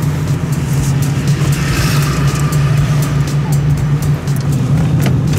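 A learner driver's car engine revs under heavy pressure on the accelerator, a loud, sustained drone with a steady low hum and shifting higher roar, heard from inside the car with no clear talk.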